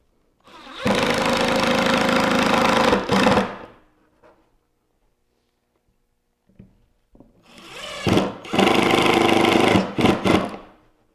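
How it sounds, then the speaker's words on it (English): A power driver runs screws into a wooden workbench in two loud whirring bursts, the second ending in stuttering pulses as the screw seats, with a quiet gap between them. "Get ready to run those last screws in."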